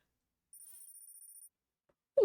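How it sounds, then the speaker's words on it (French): A telephone rings once with a short, high electronic trill lasting about a second, faint and alone in near silence, followed by a brief voice at the end. "Petit téléphone."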